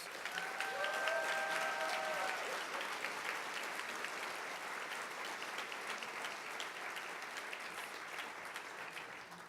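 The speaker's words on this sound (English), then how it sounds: "Please congratulate all of our Best of the Front of the House winners with a round of applause." Steady, dense applause from a large audience at a restaurant association awards gala, a continuous wash of many hands heard from a distance and fairly soft, with a brief tonal chime near the start.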